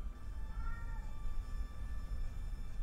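Milo, a pet cat, gives a faint, drawn-out meow over a low rumbling background, with no one talking.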